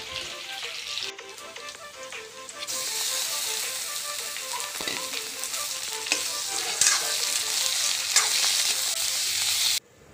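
Local chicken fries in a pan with a loud, continuous sizzle and crackle that swells as stirring begins, then cuts off abruptly near the end.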